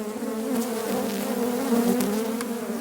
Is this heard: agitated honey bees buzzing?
yes